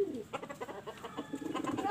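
Pigeons coo nearby outdoors in the evening: a short run of soft, low, throaty calls pulsing in a quick rhythm, with no talk.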